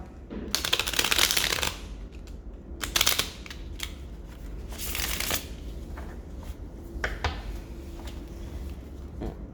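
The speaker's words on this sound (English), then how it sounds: "So I'm just going to shuffle it once more." A deck of playing cards shuffled up close in several quick riffling bursts, each a crisp flurry of card flicks separated by brief pauses and softer handling.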